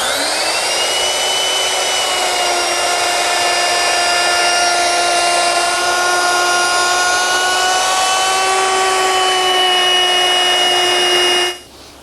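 A power tool, likely a router, rounds over the top and bottom edges of a wooden student desk top to a half-inch radius, a loud steady high whine running continuously for about eleven seconds before cutting off.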